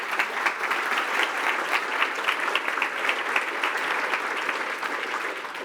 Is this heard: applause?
yes